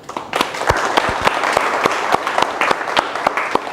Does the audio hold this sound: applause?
yes